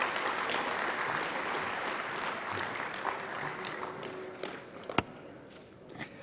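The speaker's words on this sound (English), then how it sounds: "please give a round of applause for the graduates from the Electronics Engineering Technology program" Applause at a Humber College spring convocation ceremony for graduates of the Electronics Engineering Technology program, a moderate wash of clapping through a large hall with a few sharper taps and footstep-like knocks near the end.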